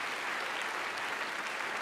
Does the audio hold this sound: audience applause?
yes